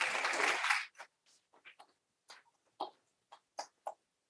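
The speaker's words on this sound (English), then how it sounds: "Round of applause for Barbara." A short round of applause at a rail symposium in Paris, a brief burst of clapping that quickly fades into a few scattered, faint claps in a quiet room.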